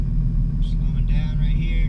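A manual-transmission car coasts in neutral, a steady low road rumble filling the cabin, while a voice speaks over it.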